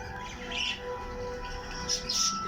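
Ornamental birds chirp and tweet in a pet bird shop, with several short high calls over a steady din of cage chatter and faint background noise.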